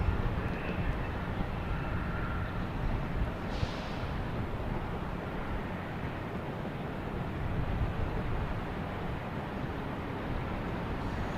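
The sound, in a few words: American Airlines airliner taking off on runway 4 right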